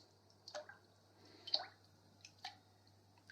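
A freshly zinc-electroplated metal part from a home plating kit is dipped into a water washing bath, giving a few soft, close drips and small splashes spaced apart against quiet background hum.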